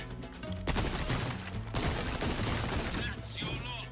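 Gunfire in the video game Resident Evil 4 bursts in dense, rapid volleys, loud and close, broken by short pauses, with a voice speaking briefly near the end.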